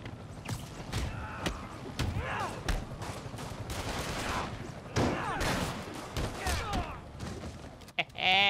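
Sniper gunfire in the Spider-Man PS4 video game, a busy loud fight where sharp shots and impacts mix with game effects and action noise throughout.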